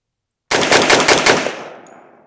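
A Stribog SP10A3 10mm pistol-caliber carbine fires a quick string of loud close shots in rapid succession, followed by a decaying echo ringing out over about a second.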